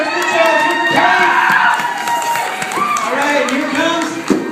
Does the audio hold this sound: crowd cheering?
yes